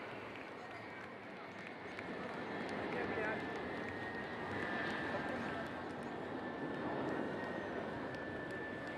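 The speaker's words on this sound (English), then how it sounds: "அடுத்த வரிசையில் IL-78 MKI மற்றும் 2 மிராஜ் 2000 ஆகியவை உள்ளன" An IL-78 MKI tanker flies past with two Mirage 2000 jets over Marina Beach, Tamil Nadu, making a broad, steady roar of aircraft noise with a faint whine on top. Crowd or commentary sounds run underneath.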